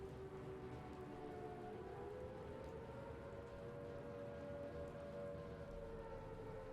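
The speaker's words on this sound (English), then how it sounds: "Is that what the raid siren is?" A raid siren in Fallout 4 wails as a steady, slowly bending tone under a hiss like rain, faint and distant throughout with no voices.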